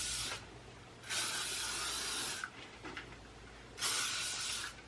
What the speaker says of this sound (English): I hairspray the whole thing.